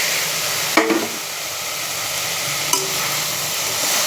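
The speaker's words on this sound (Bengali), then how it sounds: "এখন একটু কষাবো যাতে সবজির গায়ে ভালোভাবে মশলাটা লেগে যায়" Fried potato and cauliflower stirred into a pan of spice masala give a steady sizzle, with two sharp spatula scrapes against the pan standing out.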